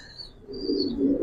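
A Giribaz pigeon coos softly, a low rolling murmur swelling in the second half, with a faint high bird call above it early on.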